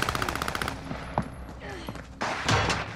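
Bursts of rapid machine-gun fire during a Call of Duty Warzone match on Rebirth Island in dark mode, sharp rattling volleys mixed with other game sounds and a player speaking.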